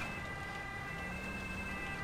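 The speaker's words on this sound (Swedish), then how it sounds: "jag blir orolig när jag hör kollegornas sirener i bakgrunden" Police sirens wail faintly in the distance in the GTA video game, a steady high tone that sits under low rumbling traffic noise.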